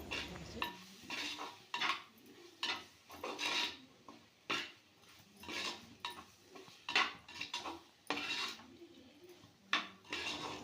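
A spoon scrapes and knocks rhythmically against a pan while masala for a dried prawn curry is stirred, giving quiet, close, irregular strokes repeated throughout.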